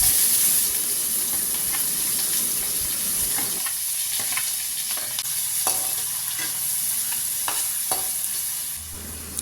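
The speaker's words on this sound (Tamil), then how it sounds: "எண்ணெய் நல்லா காஞ்ச உடனேங்க பொடியாக நறுக்கின வெங்காயத்தை எடுத்து அதில் போட்டு வதக்கி விட்டுக்கலாங்க." Chopped onions sauté in hot oil in a pan for a Chettinad-style crab roast, with a continuous close sizzle and hiss and occasional stirring clicks and scrapes.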